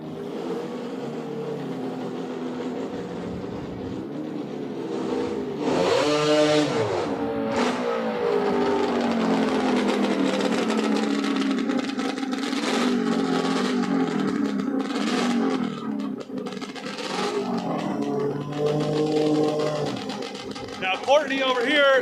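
Drag race cars at Flying H Drag Strip, a turbocharged car and a naturally aspirated 2-stroke, rev and launch loudly up close. Engine roar sweeps and holds while a commentator talks over it.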